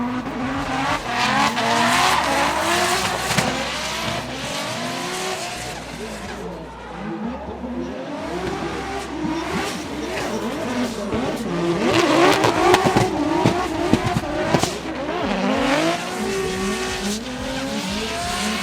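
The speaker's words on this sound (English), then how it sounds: "Man, Dustin is all over the track." Drift cars racing at a Formula Drift event at Road Atlanta on a wet, muddy track, engines loud and close with rising and falling revs, bursts of tire squeal and a commentator talking over the noise.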